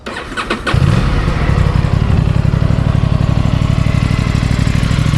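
An Aprilia Tuono 457 motorcycle engine starts with a brief cranking burst, then settles into a loud, steady, throbbing exhaust rumble close by.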